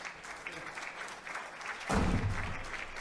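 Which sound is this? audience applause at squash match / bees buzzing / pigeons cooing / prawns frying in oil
audience applause at squash match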